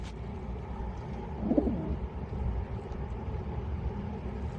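A large jumbo-sized pet pigeon gives a short, soft coo midway through, faint against a steady low-pitched background hum, with no talking.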